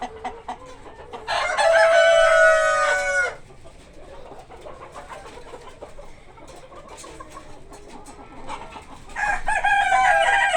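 A rooster crows loudly among a small flock of chickens, about one rooster to five hens, with two long crows at the start and end and soft clucking between them.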